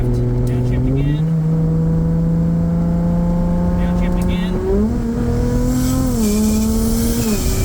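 A car with a 2JZ engine and 8HP70 automatic gearbox in an S14 build hums loudly inside the cabin, its engine note stepping up sharply twice as the gearbox downshifts.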